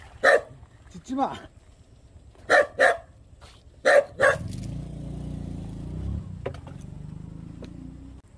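A dog barks in a vegetable garden where cabbages grow, giving several sharp, loud barks in short pairs, then falls quiet as a low rumbling background takes over.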